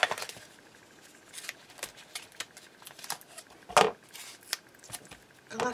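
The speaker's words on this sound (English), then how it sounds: "Oh, my scissors are stuck together." Sticky crafting scissors pried apart and snipping during card making with foam tape and patterned paper: scattered sharp clicks and snips at irregular intervals, some louder than others, with no speech over them.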